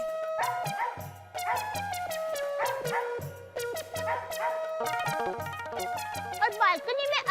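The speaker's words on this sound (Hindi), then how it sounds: "ये बहुत भौंक रहा था तो मेरी नींद खुल गई।" A dog barks in a residential compound in a Hindi TV comedy, repeated yips and barks in bursts over several seconds, mixed with background music and voices.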